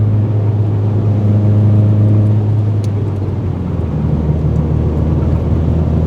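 A full-bolt-on Subaru STi engine running warm, a loud close idle with a low steady drone that shifts slightly in pitch midway and carries on evenly to the end.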